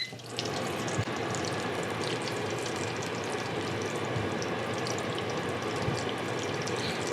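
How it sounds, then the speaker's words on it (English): A kitchen exhaust fan runs with a steady, broad whooshing rush that holds evenly from start to end, close and moderately loud, with a couple of faint clicks underneath and no voices. "I'm sorry for the noise, but I'm gonna turn my fan on"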